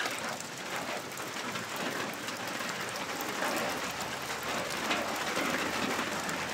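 Rain falls in a steady, even hiss that holds at the same level from start to finish, moderately quiet and unbroken, with no voices over it.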